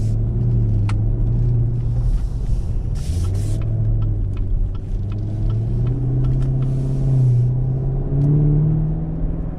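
A deep, throaty V8 exhaust rumble from a 2017 Chevrolet Camaro 2SS convertible holds steady, rising and falling slightly in pitch as the engine revs, with faint clicks over the top.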